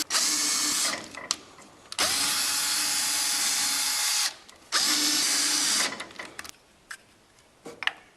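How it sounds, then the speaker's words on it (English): A power drill drives self-drilling, self-tapping screws into a boat trailer, whirring loudly in three long bursts separated by short pauses, with clicks and handling knocks in between. "Just going to use these self-drilling, self-tapping screws."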